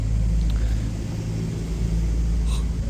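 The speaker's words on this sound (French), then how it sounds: "Petite Porsche 718 Spider." Porsche 718 Spider passing close by, a deep low engine rumble that stays steady and loud, with a brief higher whoosh near the end and no talking.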